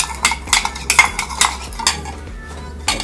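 A spoon clinks and scrapes rhythmically against a bowl while ingredients are mixed together, a quick run of bright metallic taps and stirs.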